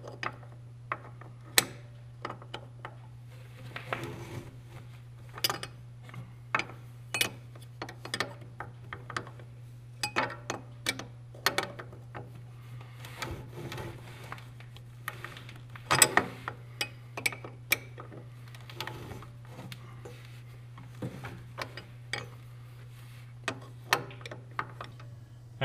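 A snowmobile adjustment nut being tightened with a ratchet gives a steady run of small, close clicks in irregular bursts, heard over a constant low hum with no talking.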